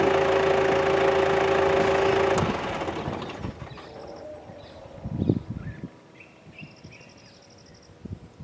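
A safari vehicle's engine idling at close range in Yala National Park, a steady rumbling hum that cuts off after a couple of seconds, leaving quieter surroundings with scattered clunks and thuds.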